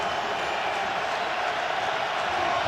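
Distant football stadium crowd at a Carolina Panthers versus Buffalo Bills NFL game, a steady broad roar of cheering voices with no breaks, filling the whole stretch at even loudness.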